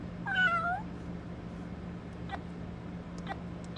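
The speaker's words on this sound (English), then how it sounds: "Cat." A toy animal-sound box plays a cat meow: one short, clear two-part mew near the start, then soft faint clicks and background hum with no talking.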